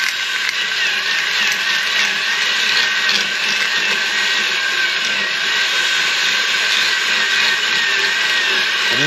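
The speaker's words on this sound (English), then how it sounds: "we're going to go 7/8 on this one" Power drill cutting a 7/8 hole in a plastic headlight housing for a 9th gen Impala projector swap, a steady high whine with grinding texture, close and continuous.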